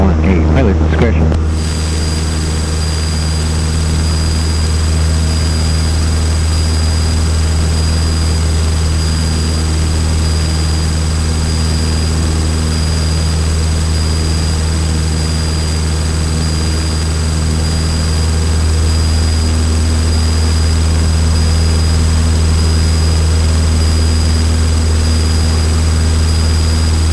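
A Cessna 152 propeller aircraft engine drones loud and steady in flight during a private pilot lesson with touch and goes, heard from inside the cabin as a constant low hum with a brief quieter moment at the very start.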